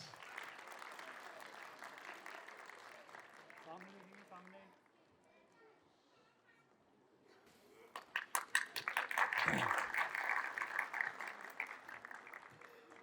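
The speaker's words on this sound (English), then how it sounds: "Give them a big round of applause." School annual function audience breaking into a big round of applause, many hands clapping close and loud, rising after a quieter stretch and continuing to the end, with a voice over a PA heard earlier.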